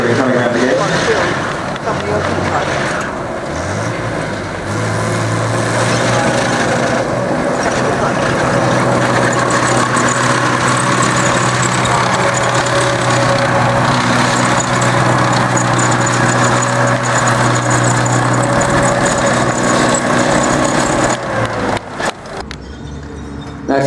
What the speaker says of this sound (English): burning up some more petrol with our Centurion coming around again